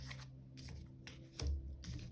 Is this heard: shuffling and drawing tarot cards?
yes